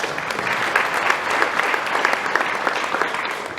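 A hall audience at a community service charity gala applauds steadily and densely for several seconds. The clapping is loud and even, with no speech over it.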